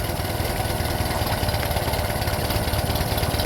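An older Honda outboard motor with a single carburetor idles steadily in forward gear, a continuous low engine drone with even mechanical pulsing, close and loud throughout with no speech.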